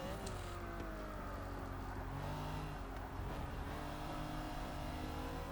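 A race car in Forza Motorsport 6 powers out of a corner at full throttle, its engine droning steadily with rising revs and gear changes, continuous and close throughout.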